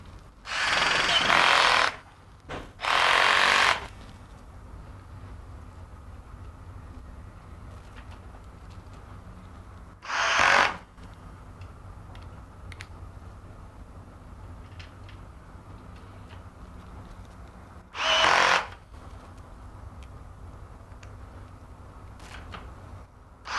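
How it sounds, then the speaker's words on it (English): A power drill drives screws into the foot plates of a Red Sea MAX S aquarium stand. Several loud whirring bursts, two close together at the start and then isolated ones, are separated by long quiet stretches of room noise. "we're now going to put screws into all of the foot plates on the other parts."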